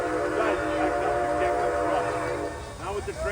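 Train approaching on a Connecticut heritage railroad line with steam locomotives, sounding a whistle in sustained tones and short bends over rumbling rail noise; a voice talks over it.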